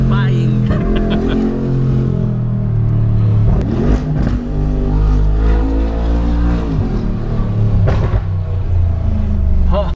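Mercedes G800 Brabus G-Wagon engine accelerating from inside the cabin, a loud sustained roar rising and falling in pitch through gear changes, with people talking over it.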